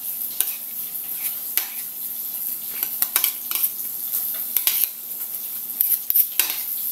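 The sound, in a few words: tofu placed on a sizzling plate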